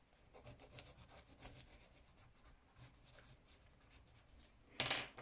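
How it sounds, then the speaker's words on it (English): Quiet, rhythmic scratching strokes of a pen or pencil moving across paper, close and soft, ending with a brief louder scrape. "So I'm going to draw our object again."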